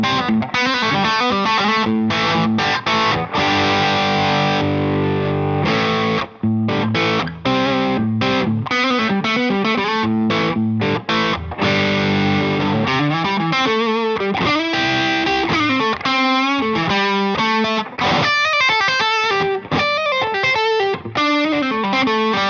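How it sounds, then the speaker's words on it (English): Heavily overdriven electric guitar fitted with a humbucker mod, played through both bridge and neck pickups: loud, dense distorted chords and riffs ringing continuously with no pauses or voices. "I will swap over to the neck pickup to show you what a crazy overdrive and volume loss or jump there is between the two pickups"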